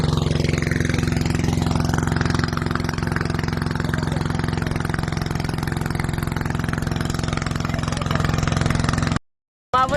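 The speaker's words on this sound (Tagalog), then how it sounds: "Umuusok na yung makina sa kakahatak sa amin." A boat engine strains hard while towing a heavy floating cottage, a loud, steady, unbroken mechanical drone up close that cuts out abruptly near the end.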